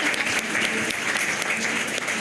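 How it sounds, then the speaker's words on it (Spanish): Audience applause at a book presentation following a reading, steady dense clapping from a crowd, moderately loud and close, throughout. "Leo y me aplauden."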